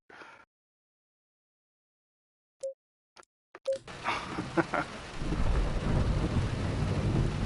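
Rain and thunder in the racing game Assetto Corsa Competizione: a few sharp isolated cracks, then a rumbling thunder burst that settles into steady loud rainfall.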